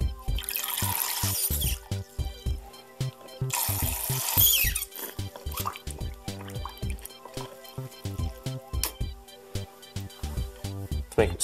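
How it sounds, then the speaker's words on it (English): A Tick-Tock crocodile bath toy squirts water in two hissing sprays, followed by irregular drips and splashes into a tub, with talk and small clicks throughout. "See, Tick-Tock can squirt water."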